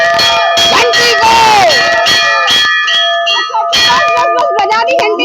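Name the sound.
temple bell ringing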